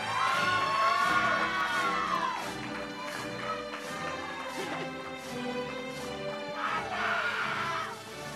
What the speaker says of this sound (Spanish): Un fuerte aplauso para Gustavo.